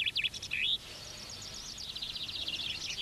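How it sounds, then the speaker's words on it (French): Chaffinch song trills at a bird song contest in Wallonia, Belgium, with rapid repeated high chirping phrases, a brief burst first and then a longer sustained run of trills, fairly faint against a quiet background. "il s'agit de comptabiliser le nombre de trilles, c'est-à-dire de chants d'amour que peut émettre un pinson pendant une heure"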